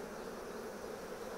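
Honeybees buzz around the hive frames of a beehive during an inspection, a dense and steady hum that is close, continuous and unbroken.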